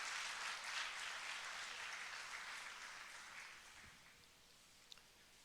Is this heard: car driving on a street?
no